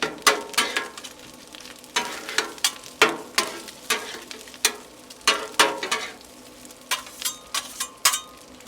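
Breakfast taco filling sizzles on a Blackstone griddle while a spatula scrapes and tosses it in quick rhythmic strokes, each clack followed by steady close frying hiss.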